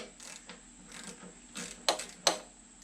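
Ratchet working a 10mm bolt loose to free the fuel tank on a Hawk 250 motorcycle, a few short quiet clicking bursts with two sharper snaps near the end, close up and without talk.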